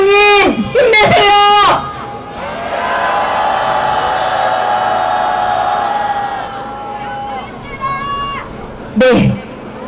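A large crowd of teachers at a national union rally lets out a loud, sustained rallying shout that swells and fades over several seconds, with a speaker's voice over a PA before and after.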